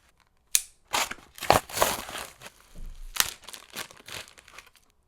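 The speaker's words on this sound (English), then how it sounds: "So let's go ahead and unbox this and show you what we have." Packaging for an ARRMA Granite Grom wheelie bar being crinkled and torn open, with a series of close, sharp rustling and crackling bursts separated by short pauses.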